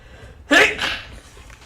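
A single sharp sneeze, loud and close, bursting out abruptly with a short trailing exhale after it, over a quiet background.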